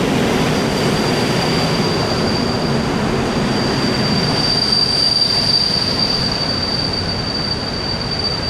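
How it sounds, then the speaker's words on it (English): A sleeper train arriving at a station rumbles steadily with a sustained high metallic squeal from the wheels, loud and close, continuous throughout with no voices. "It looks like our train has finally arrived."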